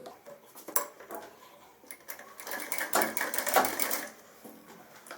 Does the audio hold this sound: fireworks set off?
no